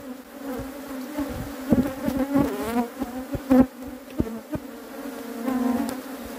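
Honeybees buzz around an apiary beehive in a close, dense drone, with individual bees whining past now and then over a steady background hum.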